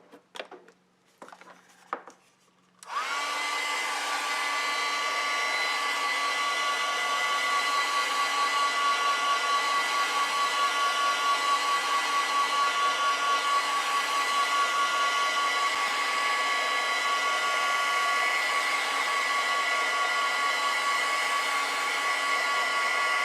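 A hair dryer blows on a mixed media journal page, switching on after a few seconds of quiet handling sounds and then running as a loud, steady whirring drone to the end.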